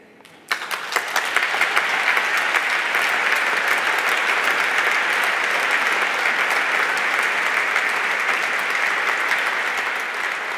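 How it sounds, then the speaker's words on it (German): A large audience at the 2015 Federal Consumer Protection Prize ceremony in Germany applauds the winner in the personality category, a dense, steady wash of clapping that starts abruptly and holds loud and even throughout, with no talk over it. "als gutes Publikum wissen Sie, dass Sie so lange applaudieren, bis die Preisträgerin hier oben ist"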